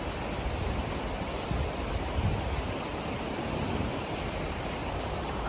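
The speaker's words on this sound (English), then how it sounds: "nothing hits quite like an Icelandic waterfall" Icelandic waterfall as a dense, steady roar of broadband rushing water, loud and continuous without a break, with no voices.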